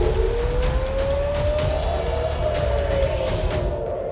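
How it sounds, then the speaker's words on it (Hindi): A war air-raid siren wails over Israel's capital, a single sustained rising tone that holds loud and steady, with road traffic rumbling underneath throughout. "हर दिन हर मिनट इजराइल की राजधानी में युद्ध वाला सायरन बज रहा"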